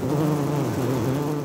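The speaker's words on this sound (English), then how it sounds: "While hundreds of thousands of honeybees are busy working outside in the hives" A dense, steady swarm buzz of hundreds of thousands of honeybees working outside their hives, a continuous close drone with no gaps and no talk.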